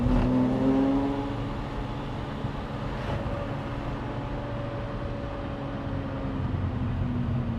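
Lamborghini Murciélago 40th Anniversary Limited Edition engine drones steadily on a street, a loud rev at the start easing into a sustained cruising hum with a slight pitch drop, close and without talk.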